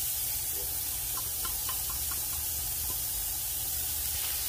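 Chopped large onion hitting a quarter cup of hot canola oil, a steady loud sizzling hiss with spattering crackles throughout, close and alone.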